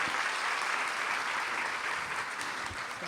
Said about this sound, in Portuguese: Eu queria uma salva de palmas para a nossa intérprete de Libras, Bárbara, Maria.